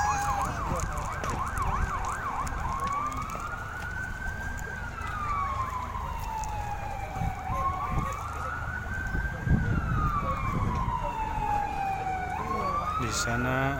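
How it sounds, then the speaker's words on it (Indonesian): A police escort siren wails in rising and falling sweeps for a Bener Meriah regent's arrival at a flag ceremony field, loud and continuous over a busy outdoor crowd and background murmur. "Di sana sudah berbunyi sirine dari kepolisian yang mengawal"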